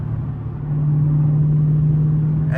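A Dodge Scat Pack's engine drones loudly at highway speed, a low steady rumble that swells and then holds at full strength, with no voices over it.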